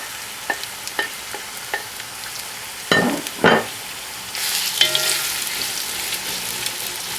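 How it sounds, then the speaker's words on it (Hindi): Onions frying in about a cup of hot oil in a pan for a Pakistani steak curry, a few light taps and stirs followed by a rising steady sizzle, close and alone. "इसे ऐड करने के बाद अपने अनियंस ऐड कर लें और इन्हें गोल्डन होने दें।"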